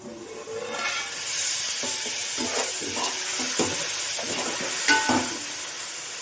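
Chopped tomatoes with salt cook in a pan for a chicken garelu dish, giving a steady close sizzle with scattered scraping stirs and clinks throughout.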